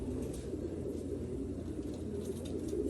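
Pigeons in a loft coo in a soft, continuous low murmur, fairly close and steady, with no talking over them.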